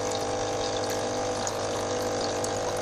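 A Deltec MCE300 protein skimmer pump hums steadily and continuously, with water rushing and gurgling as it fills the pipe, close and constant throughout.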